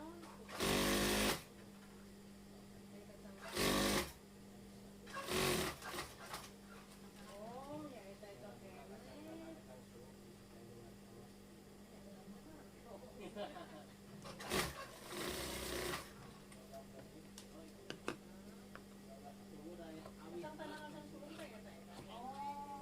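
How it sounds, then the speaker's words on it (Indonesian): A sewing machine stitches along the edge of ironed stiff fabric in short bursts of rapid whirring separated by pauses, close and clear, with no one speaking. "Kita jahit di pinggir kain keras yang udah disetrika tadi ya, disamakan dengan bordiran."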